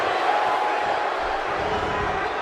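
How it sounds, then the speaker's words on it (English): Crowd at a wrestling pay-per-view event roaring and cheering just after a tables match, a dense, steady wall of noise from a large audience, loud and continuous throughout. "by the sound of this crowd, I think they're getting what they wanted."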